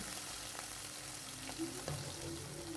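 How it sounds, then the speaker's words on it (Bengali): Pieces of hilsa fish fry lightly in hot oil in a wok, giving a faint, steady sizzle with a few soft crackles and no talking. "ইলিশ মাছটা খুব একটা বেশি ভাজবো না হালকার মধ্যেই ভেজে নেবো"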